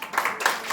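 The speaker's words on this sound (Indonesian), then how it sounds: "Yang bilang amin tepuk tangan buat Tuhan" Short burst of congregation clapping during a Sunday worship service at an Indonesian Pentecostal church, a few quick uneven rounds of hand claps, moderately close and fairly faint.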